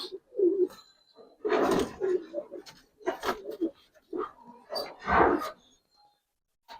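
Colouring and Giribaz pigeons coo in several close, throaty bursts separated by short pauses, fairly loud, with someone talking among them.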